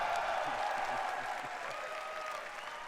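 Audience applause at the Microsoft E3 2017 press conference, a steady wash of clapping from a large crowd that fades slightly toward the end.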